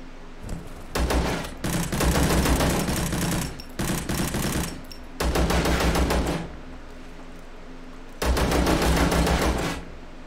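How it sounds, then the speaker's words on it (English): Rapid automatic gunfire from the video game Zero Sievert crackles in four loud, dense bursts separated by short quiet gaps, close and harsh with no voices over it. "Somebody is shooting at me."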